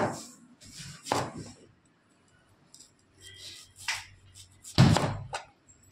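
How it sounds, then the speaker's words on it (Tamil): A knife chopping onion into thick rounds on a cutting board for bajji, heard as a few sharp, separate cuts with pauses between them, close and fairly loud. "அடுத்து வெங்காயம் கட் பண்ணிக்கலாம்"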